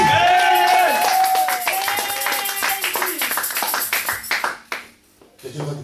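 A church congregation at a Sunday service claps loudly in quick, uneven bursts while voices shout and call out over it; the applause fades to near silence toward the end before a brief stir resumes.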